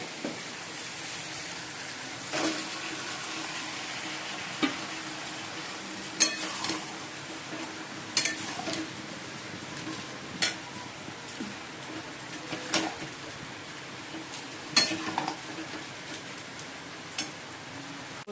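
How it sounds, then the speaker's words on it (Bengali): Marinated chicken fries with onion and tomato in a pan, giving a continuous low sizzle broken every few seconds by sharp stirring scrapes and clacks. The sound is close and moderately quiet, with no speech. "এবার চিকেনটা দিয়ে দেবো, ম্যারিনেট করা চিকেনটা"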